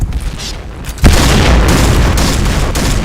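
A single loud gunshot blast rings out in a shooter video game after a quieter stretch, its sharp onset followed by a sustained booming roar that fills the rest of the moment.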